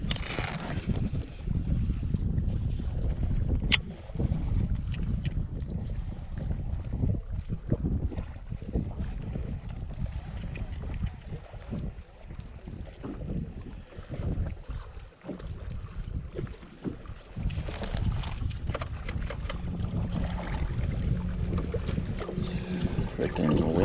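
Wind gusts rumble steadily across the microphone during kayak fishing on open water, with faint water lapping and occasional small knocks from the boat.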